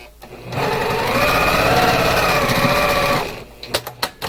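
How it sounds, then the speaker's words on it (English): Sewing machine stitching quilt fabric with bobbin thread, a close, steady fast whirring run of about three seconds, followed by a few sharp clicks and taps. "That sews much better with bobbin thread."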